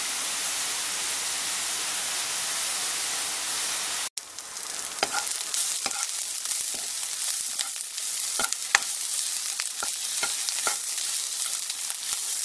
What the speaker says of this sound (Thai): คั่วจนแห้งแล้วก็ให้มีความหอมของพริก